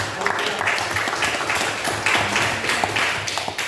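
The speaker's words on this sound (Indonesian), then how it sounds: "Kita tepuk tangan untuk" A classroom audience breaks into a short burst of clapping that stays fairly loud and dense, a mix of individual hand claps, with a few scattered voices underneath.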